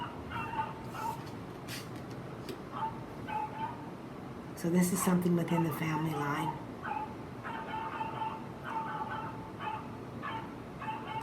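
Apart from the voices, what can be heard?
dog barking repeatedly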